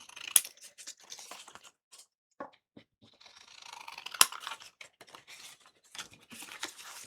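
Scissors snip through paper to cut a pocket for an ephemera basket, a series of close, quiet crisp cuts and rustles with irregular pauses and two sharp clicks.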